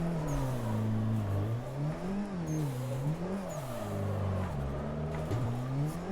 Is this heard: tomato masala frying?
no